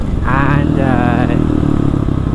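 Kawasaki KLX 450 supermoto motorcycle revving hard and pulling away, a loud rising engine note that holds for about a second before falling back to a rough idle rumble, with a voice underneath.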